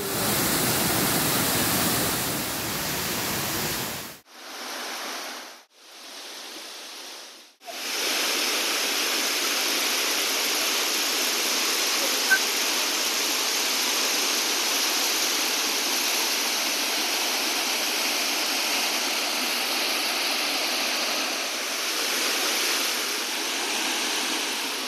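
A waterfall along the Rokko mountain trail near Kobe roars as a steady broadband rush that stays loud and continuous throughout, with a few sharp dropouts into near silence early on.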